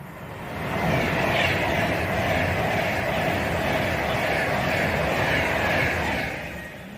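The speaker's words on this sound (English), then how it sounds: "we should see 805-008 and 805-006 passing with 1 Alpha 34 from Holyhead to London Euston" A pair of Class 805 trains on the West Coast Main Line at Rugeley Trent Valley passes close by, a loud, sustained rushing roar that swells in, holds steady for several seconds, then fades.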